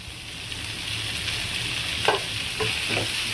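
Garlic and tomatoes saute in a pan for a chutney, giving a continuous close sizzle with a few sharp stirring scrapes near the end and no speech.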